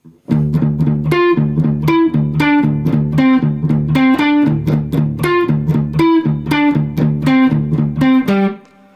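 A second distorted electric guitar part from a Cyberpunk 2077 song, a tight, driving rhythmic riff of repeated palm-muted low notes punctuated by accented chord stabs, loud and steady for about eight seconds.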